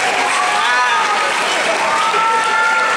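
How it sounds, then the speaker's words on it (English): Audience at a Miss Caribbean Metro USA pageant applauding the contestants, a loud steady wash of clapping filling the whole moment. "Let's give them a round of applause, please."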